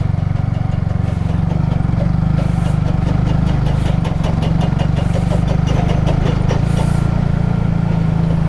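A Yamaha R15 v3 motorcycle climbs a steep hilly road, its engine holding a steady, close, continuous drone with light mechanical ticking above it.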